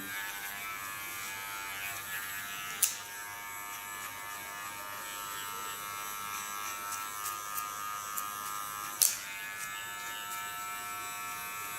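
A small electric hair clipper shaving the nape contour during a haircut hums in a steady, thin buzz throughout, close and fairly quiet, with two sharp clicks along the way.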